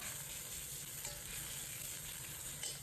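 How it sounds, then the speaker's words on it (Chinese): Shrimp heads fry in a little oil while a spoon presses them gently, giving a quiet, steady close-up sizzle with soft crackles throughout. "放入一点点油，用勺子轻轻的按压，把虾煎至变色"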